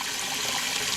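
Steady broadband rush of water from a Bass Tracker boat's livewell pump filling the well, continuous and fairly close with no talk over it.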